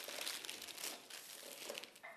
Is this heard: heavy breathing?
no